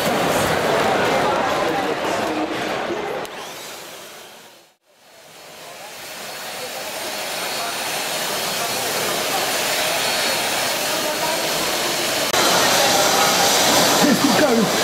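A Merlin mini vacuum cleaner runs over carpet with a steady, loud, close-up motor roar and suction whoosh. The sound briefly dips almost to nothing, then swells back and holds strong to the end.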